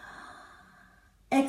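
A long, soft exhaled breath during a core exercise, drawn out and fading gently before a short, louder voiced sound cuts in at the end.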